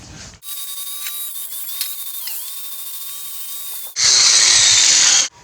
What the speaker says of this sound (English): Now I'm going to take the grinding wheel and polish up the ends a little bit